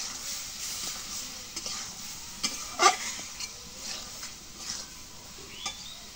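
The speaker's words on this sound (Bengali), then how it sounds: "এখন আলুগুলো দিয়ে কষাই নিই।" Potatoes and soy chunks are stir-fried in a pan, giving a soft, low sizzle with scattered light scrapes and taps of a spoon against the metal, fairly quiet throughout.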